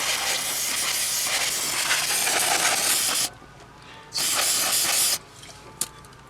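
Loud carburetor cleaner aerosol spray hissing in a long continuous burst onto a 1999 Chevy Suburban throttle body, a pause, a second shorter burst, then a faint click and quiet.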